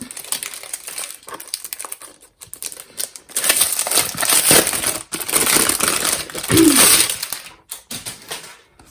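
Crinkly wrapping on a mail package is pulled and torn open up close, bursts of loud rustling and crackling separated by brief pauses.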